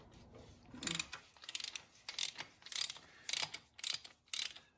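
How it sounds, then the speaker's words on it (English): A hand ratchet turns a 22 mm socket to loosen an oil filter cartridge. Bursts of quick metallic clicking repeat in a steady rhythm of seven or eight strokes, close and fairly quiet, with no talking. "we still have the oil filter cartridge to pull, 22 millimeter socket"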